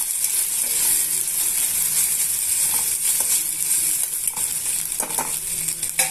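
Ginger garlic paste fries in a pan with a bright continuous hiss of sizzling oil, broken by irregular spoon scrapes and light metallic taps as it is stirred, close and steady without speech.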